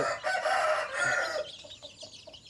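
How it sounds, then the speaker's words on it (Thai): Three- to four-month-old chickens clucking and calling nearby, a loud dense flock chorus for over a second, then quieter higher peeping calls continuing. "ส่วนชุดนี้น่าจะเป็นไก่สามเดือนจะเข้าสี่เดือนแล้วครับ"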